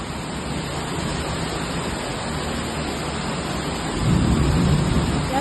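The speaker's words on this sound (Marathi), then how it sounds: "आता पुन्हा एकदा पावसाची जोरदार बॅटिंग सुरू झाली आहे" Heavy rain pouring in Uran, a dense, loud, unbroken roar of falling water that swells even heavier near the end; no voices.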